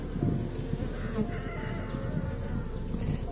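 A steady, dense buzzing hum of many honeybees swarming close by at an opened hive, continuous and droning throughout without pause.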